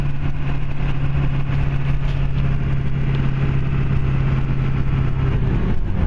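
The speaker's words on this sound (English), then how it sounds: "we're on a test drive. It's pretty loud inside this truck," Ford F450 dump truck engine running steadily inside the cab during a test drive, a loud continuous low drone and hum while cruising along, with no talking over it.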